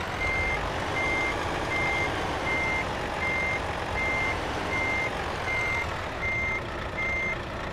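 A truck's reversing alarm beeps steadily in an evenly spaced series of about a dozen tones over a constant engine rumble, in the Euro Truck Simulator 2 driving game with a Volvo FH16.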